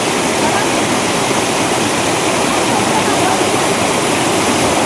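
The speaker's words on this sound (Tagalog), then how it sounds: "Mini falls lang pre" A small, very cold mini waterfall at Blue Lagoon in San Lorenzo, Norzagaray, Bulacan, rushing with a steady, loud broadband roar close by that stays constant throughout.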